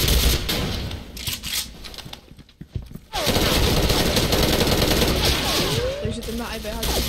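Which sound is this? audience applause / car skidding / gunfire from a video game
gunfire from a video game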